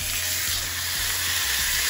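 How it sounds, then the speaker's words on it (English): Beef pot roast searing in olive oil in a skillet gives a steady, close, loud sizzle that runs unbroken, with a faint bubbling crackle and no voices over it. "We're just searing it to get a nice color on it"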